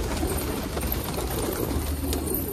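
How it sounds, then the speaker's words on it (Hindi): A crowd of pigeons kept under a net on a rooftop, soft cooing and fluttering blending into a constant dense outdoor hum, with no voices. "कितने सारे कबूतर है इसके अंदर,"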